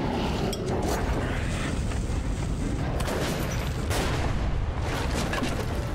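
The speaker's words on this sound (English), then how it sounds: "use pipe bomb or something here" A pipe bomb explodes amid combat in Metro Last Light, with dense continuous rumbling and crackling blasts and gunfire, loud and sustained throughout.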